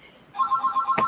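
A telephone rings with a steady warbling electronic bell that starts abruptly and pulses rapidly, loud and close, with no talk over it.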